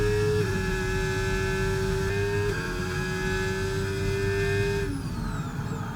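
F1 race car engine in the F1 25 video game at Las Vegas, a high whine holding pitch alone with only slight shifts, faint and steady with no talk.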